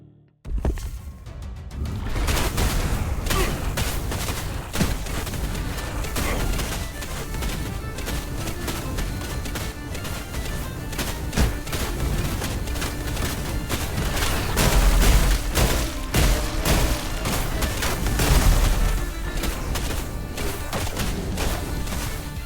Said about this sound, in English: I guess we'll just take the fire explosion.